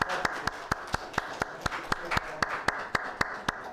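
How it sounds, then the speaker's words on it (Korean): A church congregation claps to bless an infant baptism during a Korean Sunday service: many hands clapping together in a quick, even, steady rhythm of crisp beats. "우리 박수로 축복하겠습니다."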